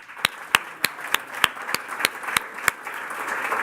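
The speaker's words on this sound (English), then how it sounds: "huge round of applause for my esteemed colleagues, Praveen Fernandez and Samara Fox" Scattered hand claps from a small audience at a film festival event, about a dozen sharp distinct claps in an uneven rhythm, fairly close, building into a softer continuous patter toward the end.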